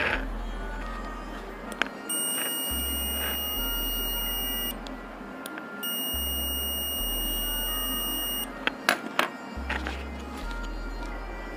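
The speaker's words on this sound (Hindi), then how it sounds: "मल्टीमीटर के दोनों प्रोब को लगाते हैं तो यहाँ पर एक वीप का साउंड आ रहा है" Digital multimeter in continuity mode, probes touching, gives two long steady electronic beeps of about two and a half seconds each, separated by a short gap, over a constant low hum and faint clicks.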